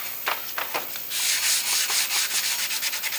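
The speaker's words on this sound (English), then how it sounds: "So we get it all sanded down." Sandpaper rubbing over the wooden body of a Peavey Reactor guitar: short rhythmic scratchy strokes, then a longer run of steady back-and-forth sanding, close and clear with no talk.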